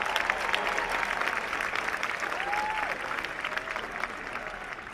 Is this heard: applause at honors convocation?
yes